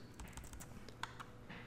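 Quiet run of quick key taps on a computer keyboard while an order size is typed into trading software, a few clicks spaced irregularly and heard close without talk.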